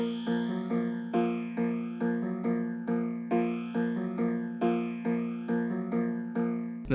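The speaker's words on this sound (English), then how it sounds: "The sound I'm using is called Strange Keys" The Strange Keys synth preset from the Zonology Make Trap Great Again bank plays a repeating pattern of short plucked chords in a bouncy rhythm, clean and close, with a sudden louder hit at the very end.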